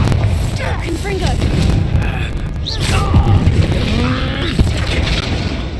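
Explosive spell blasts from Bombarda and Confringo in Hogwarts Legacy, dense booming bursts layered over game combat noise and a voice, loud and continuous across the stretch.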